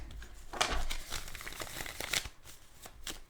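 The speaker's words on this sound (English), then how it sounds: "Doing some shuffles first." A deck of tarot cards is riffled and shuffled by hand in a quiet room, with bursts of papery flicking and crinkling at uneven intervals and no talk.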